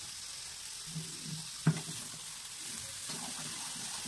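Mutton and spices fry quietly in a wok with a steady low sizzle, a sharp clink of the spatula midway and soft stirring scrapes.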